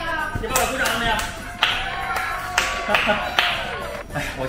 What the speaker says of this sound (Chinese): 给爸爸鼓掌了没有？